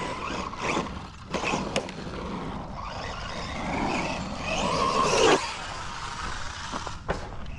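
An Arrma Quake 223S brushless RC monster truck on 3S power and foam-filled tires drives and jumps outdoors, its motor whining steadily with rising surges, rough rolling noise and a few sharp knocks from landings.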